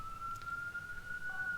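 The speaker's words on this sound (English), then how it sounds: "sorry for the siren." Emergency vehicle siren near a hospital, a steady high-pitched tone holding for the whole stretch, moderately faint and distant over a low background rumble.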